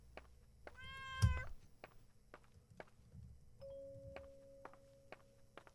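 A cat meows once, loud and close, in the horror game Layers of Fear, its wavering cry rising over quiet footsteps and soft thuds, followed later by a steady faint electronic hum.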